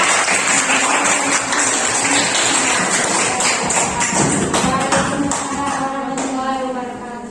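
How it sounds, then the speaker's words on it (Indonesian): Classroom applause for a student group presenting in a madrasah maths lesson: a continuous wash of many hands clapping close by, steady and loud, with a few voices rising toward the end as it tapers. "Kasih tepuk tangan untuk kelompok 4"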